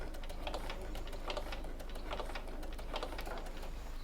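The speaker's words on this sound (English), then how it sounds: "we're going to stitch right across to this first corner using a 1/8 allowance" A sewing machine stitches across a connector cover on a fabric bag at a 1/8 allowance, a quiet, steady rapid needle rhythm with faint periodic clicks, no talking.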